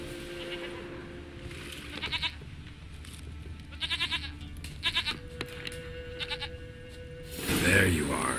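A goat in The Witcher 3 gives several short, quavering bleats in bursts over a steady game ambience, the calls fairly close and repeated.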